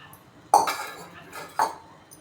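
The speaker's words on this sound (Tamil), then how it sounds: "இது கூடவே ஒரு தேங்காய் பூ திருவில் திருவி சேர்த்து கலந்து விட்டுக்கணும்" A spoon clinks twice against a pot while modak filling is stirred with grated coconut and cardamom for Pillayarpatti-style modak, each a sharp, close metallic knock about a second apart.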